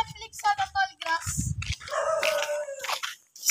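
Several dogs in a rural provincial setting give sharp, spaced barks and yelps, fairly close and loud, mixed with people talking over and between them.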